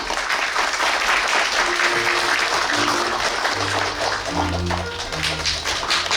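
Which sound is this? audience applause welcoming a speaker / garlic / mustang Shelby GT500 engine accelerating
audience applause welcoming a speaker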